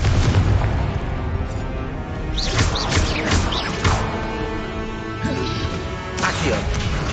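Confringo explosion spells blast repeatedly in a magical video game, loud booming crashes layered over continuous dense game noise, with a voice shouting spell names among them.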